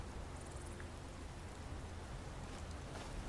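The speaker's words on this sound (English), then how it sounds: "Look at that rain effect." Steady hissing rainfall in the video game Skyrim, even and constant throughout, with no voices.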